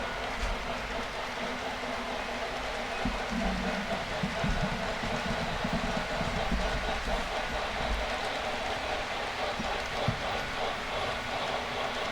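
A model train locomotive, a helper engine on an HO-scale-style Donner Pass layout, rolls along steadily with a soft continuous rumble and faint clicking of wheels on track, moderately close, backing toward the engine servicing area.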